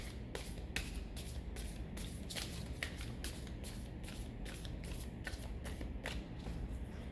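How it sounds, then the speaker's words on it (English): Cards are shuffled repeatedly in quick, crisp riffling bursts at close range, a brisk irregular rhythm over a quiet background with no voices. "So first I'm going to clear the cards."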